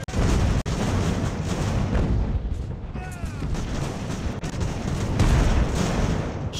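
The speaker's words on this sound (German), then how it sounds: "Also werden wir weiterhin auf diesen Pulk da schießen." Musket and cannon fire aimed at a mass of enemy troops in the naval battle game Ultimate Admiral Age of Sail, with booming shots and crackling volleys layered over a steady roar of battle.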